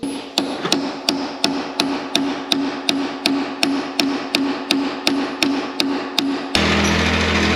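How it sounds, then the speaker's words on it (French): Hammer blows on a chisel against stuck bolts of a Rodag HT 200 tracked carrier ring out in a steady, evenly spaced series of about twenty sharp metallic strikes, close and loud, ending in a burst of broad noise. "Je crois que je vais prendre un marteau, un burin"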